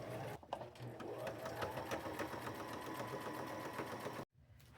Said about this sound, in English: Now I'm just fixing to sew them down the leg